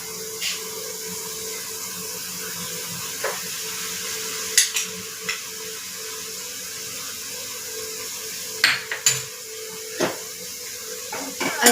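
A spoon stirs salt into boiled matki (moth beans) in a pot on the stove, giving scattered clinks and scrapes over a steady sizzling hiss.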